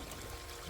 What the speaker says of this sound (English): The water is going to overflow the bucket